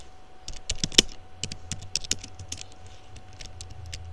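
Fast, uneven typing on a computer keyboard, with crisp close key clicks in short bursts and a few louder strikes, heard alone against a quiet background.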